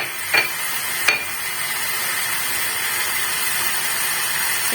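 Potatoes with an onion-garlic spice mix frying in a pan give a steady hiss of sizzling, with two sharp scrape-clinks of a utensil near the start, close and without any talking.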